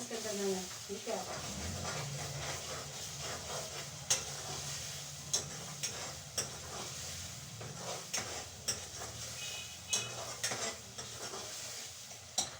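Coriander powder being stirred into masala in a hot pan, with steady sizzling and frying under repeated scraping and clinking stirs, close and moderately loud, while someone talks over it.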